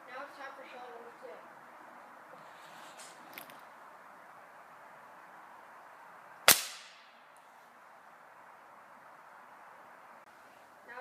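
A Gamo air rifle fires a .177 Rocket pellet: one sharp, loud crack with a quick decaying tail, standing out alone against a steady low background hiss.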